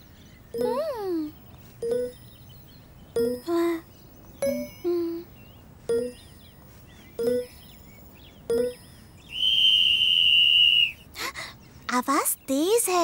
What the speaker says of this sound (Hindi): समझ गया, ये सीटी है।